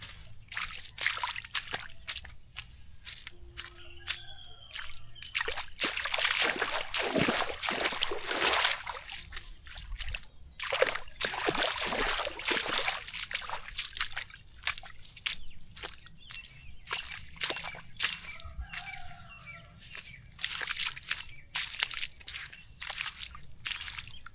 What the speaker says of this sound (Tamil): தண்ணி வருது பாருங்க வாய்க்காலில்